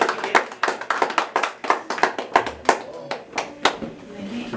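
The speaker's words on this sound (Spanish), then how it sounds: "Ahora que sí, el aplauso." Hands clap at a birthday celebration with a youth mariachi band, loud close claps in a quick uneven series, with a few voices murmuring among them.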